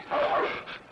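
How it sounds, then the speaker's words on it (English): A dog in an old Western film gives a single short, close bark-like yelp lasting under a second. "That's a dog."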